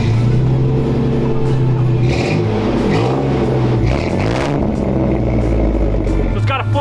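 The restored Chevy truck's engine revs through a Flowmaster Super 50 exhaust on 3-inch pipe, a loud, close, throaty rumble that climbs and falls in several blips, with voices faintly under it.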